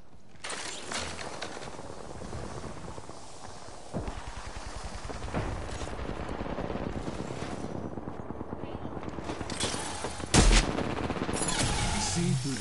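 Dense, loud bursts of explosive fire from the Knuckle Cluster in the video game Apex Legends, with repeated blasts and rattling gunfire layered over a constant roar and several sharp impacts.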